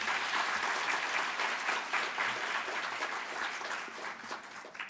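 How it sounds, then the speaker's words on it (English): Audience applause at the National Japan Bowl championship and awards ceremony, a full, continuous roar of many hands clapping in a large hall, steady and then slowly fading. "Let's have a round of applause."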